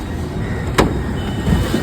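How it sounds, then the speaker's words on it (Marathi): A loaded goods tempo pulls up to be unloaded, its engine a steady low rumble throughout with a brief sharp knock or clunk near the middle. "चला या मालाची गाडी आली तर पहिले माल उतरून जाऊ."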